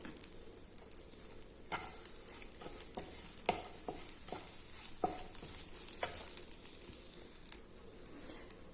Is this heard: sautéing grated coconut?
yes